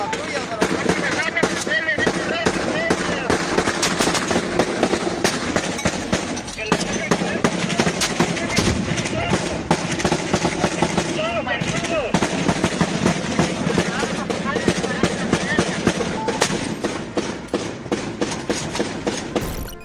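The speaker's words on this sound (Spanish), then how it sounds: "El sonido de los disparos y las explosiones demuestran el poder ofensivo del cártel" Rapid bursts of gunfire and blasts during a cartel attack on patrols, dense and continuous for about twenty seconds, loud and close with sharp crackling volleys and shouting voices mixed in.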